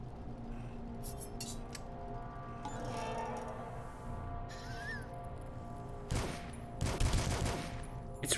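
Gunfire in the retro shooter game DUSK, bursts of rapid shots and crashing impacts that swell toward the end over a low, rumbling game backdrop, fairly quiet overall.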